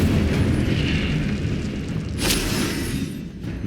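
A spell blast in the Hogwarts Legacy video game: a loud, sustained rumbling boom with a sharper burst partway through, fading slightly toward the end.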